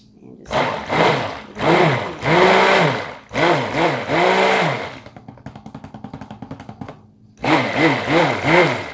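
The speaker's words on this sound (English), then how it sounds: "Grab our stick blender. Make sure we get all the bubbles out." A stick blender mixes cold-process soap batter in repeated bursts of high, whining motor hum with brief pauses between pulses and a softer rattling stretch before the final burst.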